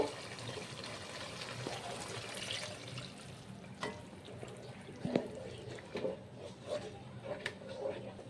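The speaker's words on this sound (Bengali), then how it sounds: "আর এখন 1 বাটি জল দেব।" A bowl of water poured into a pan of simmering chicken malai kofta curry, a gentle splashing trickle with soft clinks over a low background hiss, close and quiet.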